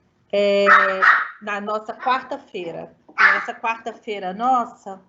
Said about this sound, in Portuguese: isso é um cachorro da minha filha